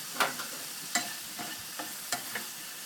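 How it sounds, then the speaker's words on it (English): Omelette mixture is stirred around in a frying pan, giving soft sizzling with several distinct scraping strokes of a utensil against the pan, close and fairly quiet, with no talking. "give that a bit of a stir around."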